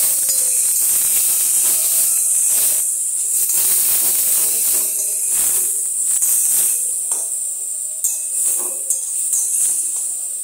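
Spice paste for a home-style aloo paneer curry fries in a pan, giving a loud, steady hiss of sizzling with faint sputters and stirring knocks underneath, alone without speech.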